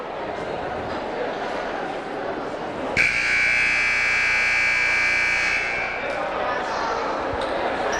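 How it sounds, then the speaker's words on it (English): A basketball game buzzer in a high school gym sounds once, a loud sustained electronic tone lasting about three seconds over background crowd murmur, then cutting off. "There's the buzzer, Charles."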